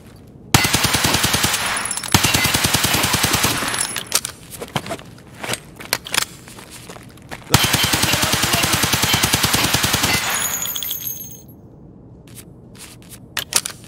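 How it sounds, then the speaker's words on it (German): Gunfire from an HK UMP in the video game Escape from Tarkov comes in long, rapid automatic bursts, loud and close. Scattered single shots and mechanical clicks fall between them, and no one speaks. "Munition am Ende ruhig verballern, kostet ja nichts und außerdem leveln wir dadurch ein bisschen Recoil."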